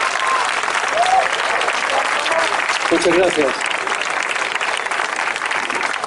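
Audience applause at a Madrid political event for the Equo party, dense steady clapping filling the room throughout, with a speaker's voice briefly heard over it.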